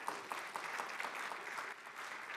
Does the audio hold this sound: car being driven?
no